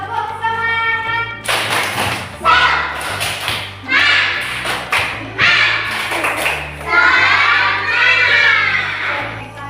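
A combined first- and second-grade class performs a rhythmic spirit clap, loud patterned bursts of clapping and thumping mixed with children chanting and shouting.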